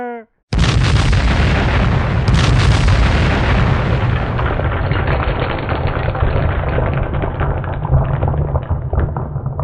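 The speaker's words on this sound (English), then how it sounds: "The device in the basement is going to explode." A device blows up in a building basement in an animated scene: a sudden loud blast followed by a long, heavy rumbling roar of destruction that fills the remaining seconds.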